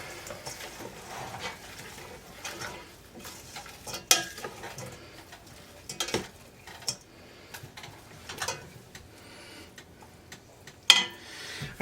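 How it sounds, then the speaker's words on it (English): American goulash with mushrooms is stirred in a pot on the stovetop, with a spoon clinking and scraping against the metal in uneven knocks and taps over a quiet background, close by and without talk. "So I'm going to give that a stir."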